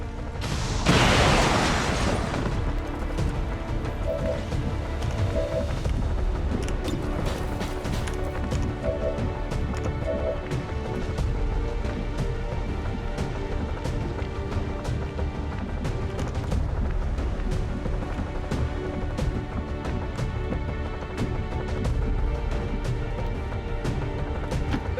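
Explosions and heavy booms from the XCOM 2 video game, a loud blast near the start followed by continuous rumbling gunfire and impacts layered over game music, with no talk.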